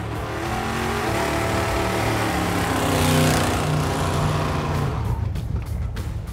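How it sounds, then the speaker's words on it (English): A Chevy C-10 pickup engine roars loudly through an open dual exhaust cutout, a deep throaty growl that swells midway then falls back to a rough rumble. "as well as a dual exhaust cutout for when I wanted to let the world hear this thing roar"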